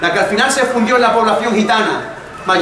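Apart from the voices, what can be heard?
No everyday noise stands out behind the speech.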